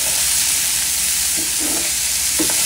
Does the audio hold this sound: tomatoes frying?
yes